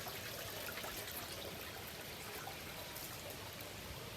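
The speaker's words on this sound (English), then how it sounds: "Flowing down through the first tap there. Draining into the sump." Water in an IBC aquaponics system flows through a tap and drains into the sump, making a continuous, even rushing trickle that stays close and unbroken.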